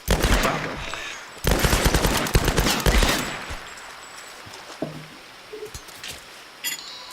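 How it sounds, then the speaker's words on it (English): Rapid machine gun bursts from a video game rattle loud and close in several dense volleys over the first few seconds, then fade into quieter scattered game sounds. "Maybe firing a machine gun at these things is overkill"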